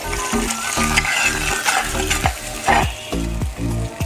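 Ghee-fried cashews and raisins stirred into a pot of carrot ada pradhaman, with a steady sizzle and repeated scraping, clinking strokes of a ladle against the vessel, close and fairly loud with no talking.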